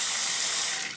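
Steady broadband hiss of water running from a Price Pfister kitchen faucet, close and continuous, fading slightly at the very end, with no voices.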